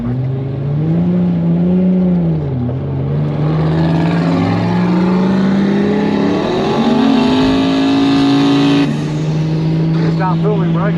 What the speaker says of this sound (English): engine and the turbos and their bonnet mounted exhausts and wastegates and everything, this thing's insane.